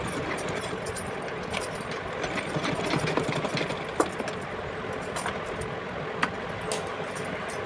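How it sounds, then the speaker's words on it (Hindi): Sewing machine stitching a small summer doll dress, a steady fast mechanical whir and rattle running continuously at close range, with a couple of faint clicks. "अब इसके ऊपर से इस तरह से फोल्ड करके एक बार इस पर हम सिलाई लगा लेंगे यहाँ पे अच्छे से।"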